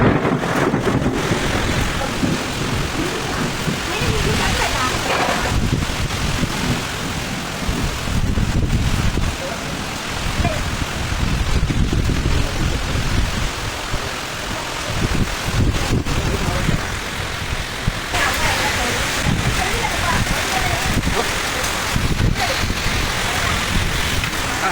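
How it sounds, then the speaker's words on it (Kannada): Heavy afternoon rain pours on Yellapur town amid strong wind and thunder, a loud, dense, continuous roar with gusts buffeting the microphone. "ಯಲ್ಲಾಪುರ ಪಟ್ಟಣದಲ್ಲಿ ಮಧ್ಯಾಹ್ನದ ವೇಳೆಯಲ್ಲಿ ಸಿಡಿಲು ಗುಡುಗು ಸಹಿತ ಭಾರೀ ಮಳೆ ಸುರಿಯಿತು."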